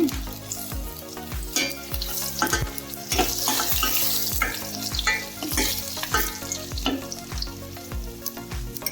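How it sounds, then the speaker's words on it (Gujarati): Green masala being sautéed with green beans and potatoes for a Gujarati shaak, with loud continuous frying sizzle and a brisk, regular rhythm of spoon scrapes against the pan, without talk. "એ મસાલાને એમાં એડ કરવાના છે અને બધું જ સારી રીતે સાતડવાનું છે"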